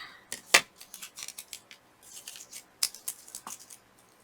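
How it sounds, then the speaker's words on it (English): Scissors cutting washi tape, a close series of small crisp snips and papery clicks, with two louder sharp cuts standing out among softer rustles. "I don't need all that extra, so I'm just going to cut that off."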